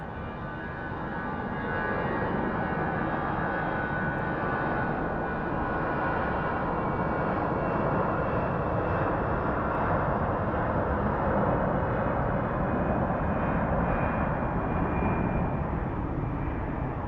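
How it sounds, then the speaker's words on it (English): An American Airlines jet at Phoenix Sky Harbor International Airport powers up for takeoff, its engines building to a loud, steady roar that holds for the whole stretch. "that is the sound of an American Airlines jet powering up for takeoff"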